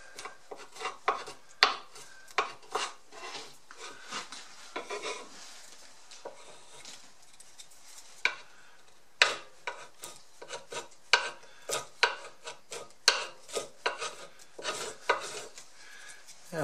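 A paint scraper rasps stickers off an axe in repeated short, sharp scraping strokes, close and clear, coming in irregular bursts with brief pauses and no talking.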